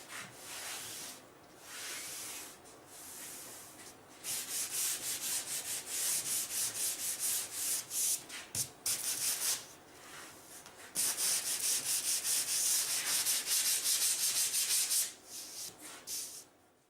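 A sanding block rubs back and forth against the edge of a wooden table-football cabinet, putting a neat small bevel on it, in close, steady strokes with brief pauses between bursts, quiet room and no talking.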